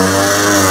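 A car with modified exhaust work and a large exhaust dip idles, giving a loud, steady, droning rumble with a raspy buzz held evenly throughout, close up.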